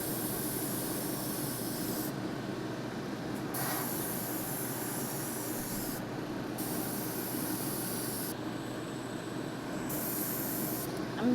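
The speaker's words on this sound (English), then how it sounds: "I'm just going to barely pull back on it so I don't get too much black spraying everywhere" A steady, fine hiss of an airbrush spraying black paint onto a cake continues throughout, briefly interrupted a few times by short pauses in the airflow.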